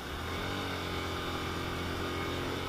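A motorcycle with a faulty clutch plate runs with the clutch pressed, giving a steady, close engine drone with a constant hum and no pauses throughout.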